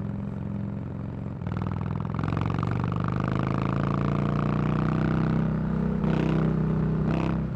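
A Harley-Davidson Iron 883 Sportster engine running close by, a loud steady throbbing drone that steps up in pitch after a brief dip, holding a rising rev before easing.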